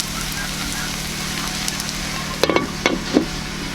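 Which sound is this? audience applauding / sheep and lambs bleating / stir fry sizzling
stir fry sizzling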